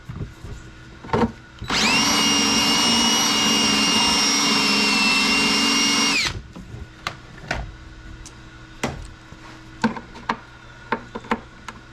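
A power drill bores a hole on a C7 Corvette Z06 for a methanol injection kit, one loud sustained whine lasting about four seconds, followed by scattered clicks and handling noises of the tool and parts.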